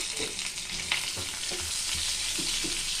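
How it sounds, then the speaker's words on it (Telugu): Cumin seeds and curry leaves fry in hot oil, giving a continuous bright sizzle with soft crackles and occasional stirring scrapes, close and steady throughout, with no voices. "ఇది మంచిగా ఫ్రై కానివ్వండి."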